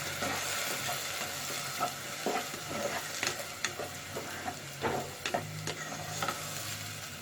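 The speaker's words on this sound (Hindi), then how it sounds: "इसमें जाएगी 4 बड़ी प्याज ग्राइंड हुई हुई।" Four large ground onions frying in a pot with curry leaves, a gentle steady sizzle under repeated stirring scrapes and light knocks, close and quiet, with no talk.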